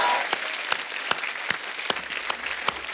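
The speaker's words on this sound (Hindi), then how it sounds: "जोरदार ताली।" Applause from a television studio audience at a Hindi comedy talk show, a steady wash of clapping with a few sharp louder claps standing out, moderately loud and without speech.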